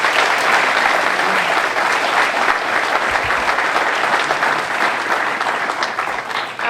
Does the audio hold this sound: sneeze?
no